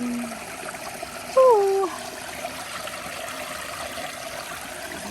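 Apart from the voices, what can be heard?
water flowing in a cold stream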